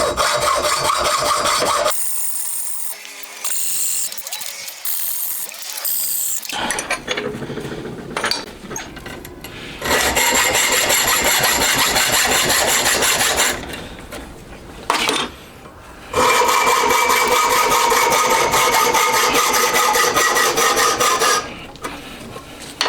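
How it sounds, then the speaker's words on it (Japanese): Unneeded sprues are cut off cast metal parts for a four-cylinder Honda Monkey engine: a steady, loud rasping saw or file scraping in long sustained passes, with brief pauses between strokes and no talking. "いらない湯道をカットしてきます。"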